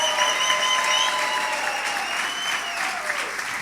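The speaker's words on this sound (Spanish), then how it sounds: "Así que yo le ruego a usted que aplauda a los pastores de aquí." Church congregation applauding during a Spanish-language service, steady sustained clapping from a crowd filling the room, with a voice faintly over it.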